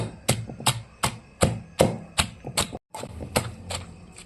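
Green chilies pounded in a stone mortar for a traditional tamarind-chili chutney, a steady series of about a dozen sharp thuds roughly every 0.4 seconds, close and fairly loud, with a brief pause midway and no talking.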